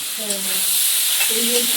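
Food frying in a pan in a home kitchen during morning cooking, a steady broadband sizzle throughout with a faint voice-like hum underneath.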